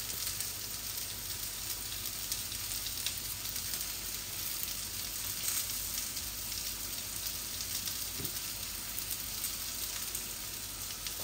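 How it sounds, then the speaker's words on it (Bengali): Spices, satkora citrus and liver fry together in a pan with a steady, soft sizzle. The crackling hiss runs evenly throughout with no voices. "সাতকরা আর কলিজাটা ভুনা হয়ে যাবে একসাথে"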